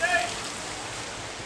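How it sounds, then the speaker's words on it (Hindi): Heavy rain pours down steadily, a dense, even hiss of water that stays loud and unbroken throughout the short stretch. "ज़बरदस्त बारिश हो रही है सुबह से"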